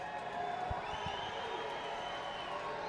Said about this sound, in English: Crowd getting loud, trying to encourage Zavala and the Woo Sox.